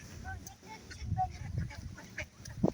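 Several ducks quacking and honking in short bursts outdoors, fairly close, with faint background murmur.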